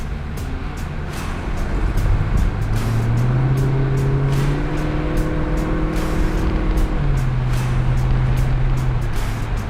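A 2004 Corvette with a Corsa touring exhaust rumbles steadily and loudly throughout, its low drone rising in pitch partway through, then settling back to a lower tone.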